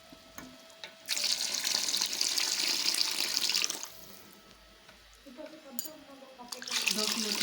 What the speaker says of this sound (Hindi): मैं इसमें तकरीबन 6 गिलास मैंने पानी शामिल कर दिया है